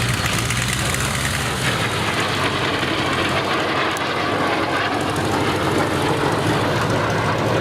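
A Folland Gnat jet flies past at an airshow, its engine a loud, sustained roar that fills the whole stretch, steady with slight swelling and no talk.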